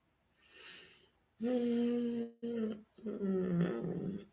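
A dog growls close by in sustained, throaty rumbles, with a short gap partway through before another long growl, and a faint yip or whimper near the start.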